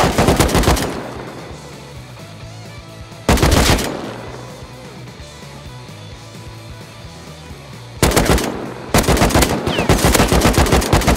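Automatic rifle bursts in the video game Rust, loud rapid fire in three separate strings of shots with quieter ambient gaps between, no talking.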